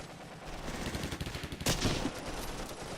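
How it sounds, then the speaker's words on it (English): Rapid bursts of gunfire crackle around the town hall in the wargame Close Combat, dense overlapping shots with a louder blast near the middle, sustained and fairly close with no talking. "Seems to be a lot of fire going in and coming out from the town hall."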